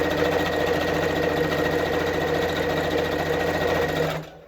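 Sewing machine stitching a quilt, humming close and steady in a continuous fast whir with a rhythmic mechanical pulse, then winding down and stopping near the end.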